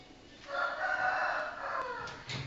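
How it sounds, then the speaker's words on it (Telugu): Rooster crowing from a flock of chickens, one sustained crow rising and falling, moderately close, with no talk. "కోళ్ళు ఎక్కువైపోయినాయి"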